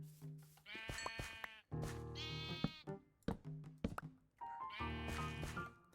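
Sheep on a sheep farm in the Minecraft video game bleat repeatedly and loudly, about four separate wavering calls coming one after another with short gaps and no talk.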